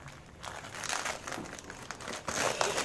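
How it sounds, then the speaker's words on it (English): A Mi Focus Cube product package being cut open and unwrapped, with close, busy crinkling and rustling of packaging that swells in bursts across a few seconds. "this is the package and let's cut and see what's inside it"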